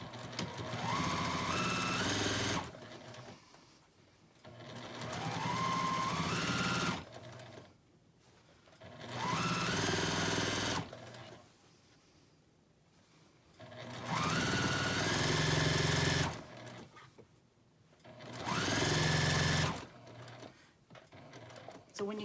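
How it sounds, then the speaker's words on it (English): A sewing machine fitted with a quarter-inch foot stitches binding onto a quilt, running in five bursts of rapid mechanical whirring and clicking separated by pauses, with someone talking between the runs. "And this is sewn with a 1/4 inch seam. I'm using a 1/4 inch foot that has a guide on it"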